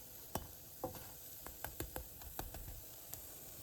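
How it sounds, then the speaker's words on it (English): Small pieces of tripe mousse dough frying in a pan, giving a faint sizzle with scattered soft pops and spatula scrapes spaced irregularly over a quiet background. "I made like 2 little things here. And this is also delicious. Just fry them a little bit."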